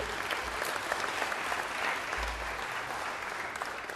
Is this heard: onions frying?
no